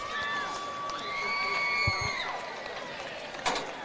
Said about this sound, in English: Northfield crowd getting into it.